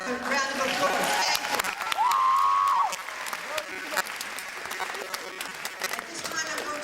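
A round of applause from an audience at a ceremony, with clapping and some cheering and crowd voices, including a whistle, then tapering into scattered claps.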